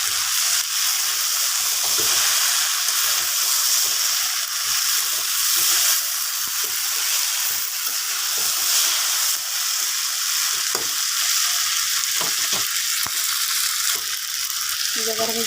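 Small fish and vegetables fry in a pan with a steady, close, loud sizzle and hiss throughout, broken by occasional stirring clinks and pops.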